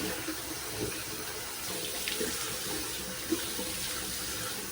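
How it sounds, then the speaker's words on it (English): Running tap water splashes steadily into a bathroom sink as a face is rinsed during a morning skincare routine, a continuous close hiss with soft irregular splatters and no voices. "So now we're gonna rinse her off"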